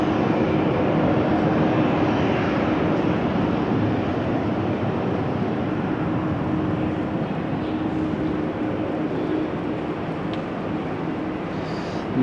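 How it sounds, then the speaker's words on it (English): A KLM Boeing 737-800 jet, flight 1621 to Milan, takes off at rainy Amsterdam Schiphol with a loud, steady, broadband engine roar that holds for about twelve seconds and eases slightly near the end. No voices are heard. "This is KLM flight 1621 to Milan, 737-800."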